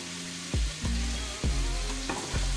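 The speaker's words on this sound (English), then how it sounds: "we got our chuck roast on here, and we're gonna brown both sides" Chuck roast browning in a hot pan for barbacoa beef, a steady close sizzle with several sharp low thumps as the meat is moved or pressed, no voices.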